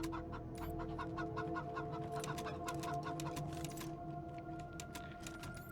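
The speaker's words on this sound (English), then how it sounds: "You have to have the chickens so close that you can hear them." Chickens cluck in quick repeated bursts in the video game Wasteland 3, close by, over a low steady hum; no talking.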